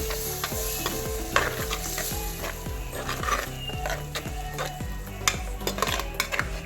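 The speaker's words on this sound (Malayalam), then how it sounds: "ഇനി അതിൽ മിക്സിയിലടിച്ച അത് അരപ്പിലേക്ക് അല്പം വെള്ളം കൂടി ചേർത്ത് കുഴച്ചെടുത്ത് അത് നന്നായിട്ട് മിക്സ് ചെയ്യാം." Onion masala paste loosened with water is stirred in a pan for a crab ghee roast: a spoon scrapes and taps in a regular rhythm over a constant close sizzle, with occasional clinks of metal.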